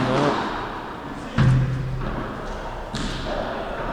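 A padel ball is struck with a delicate drop shot on match point at a P25 tournament in Amiens. Two soft, dull thuds ring out against a constant court hum, with faint voices nearby.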